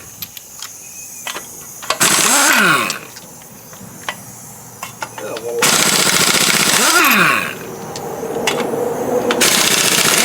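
An impact wrench with a 21mm socket hammers lug nuts off a 1988-98 4x4 Silverado wheel in two sharp, loud rattling bursts, with quieter workshop clatter between them.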